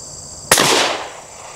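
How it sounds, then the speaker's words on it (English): A single rifle shot fired point blank at a nearby target while testing a scope: one sharp, loud crack that decays over about half a second, with no talk. "So let's shoot"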